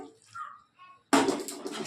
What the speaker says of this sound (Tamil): கொஞ்சம் தண்ணி ஊற்றிக்கலாம் ஒரு அரை டம்ளர் தண்ணி ஊற்றிக்கிட்டு